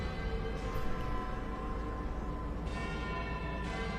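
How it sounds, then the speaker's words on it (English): Big Ben's bell chiming inside the Sunless Skies video game, a steady sustained tolling with long ringing harmonics over a continuous low rumble, moderately loud and unbroken, with no talk. "Also, that bell is actually Big Ben."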